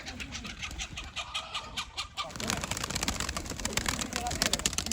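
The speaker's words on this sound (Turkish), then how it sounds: "Cücü deyince tavuklar koşarak geliyor." Chickens clucking and calling near a keeper on a poultry and pigeon farm, with bird sounds thickening into a busier flurry midway and a voice speaking over them.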